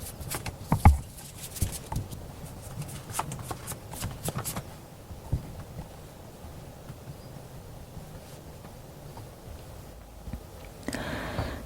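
Tarot cards being shuffled and drawn by hand: a dense run of soft riffling and papery slaps, brisk at first and then settling into lighter, scattered card handling, close and fairly quiet with no voices.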